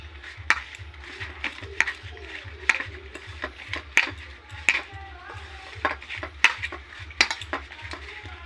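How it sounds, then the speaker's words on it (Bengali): A spoon mixes rasmalai batter with baking powder in a bowl, clinking against the sides in a quick, steady rhythm of close taps, roughly two a second. "আমি সুন্দরভাবে মিশিয়ে নিচ্ছি"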